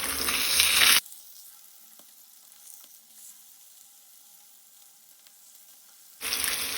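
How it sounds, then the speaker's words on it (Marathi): Kingfish (surmai) pieces frying in a pan over high flame give a loud, steady sizzle at the start and end, with a quieter gap between where only faint kitchen sounds remain. "हाय फ्लेमीचेर नुस्तें आमकां तळून घेवपाक जाय।"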